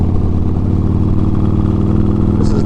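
Engine of a built 2009 Harley-Davidson Road Glide motorcycle with throttle-by-wire, heard while riding, a loud, steady low rumble that stays close throughout, with no talking.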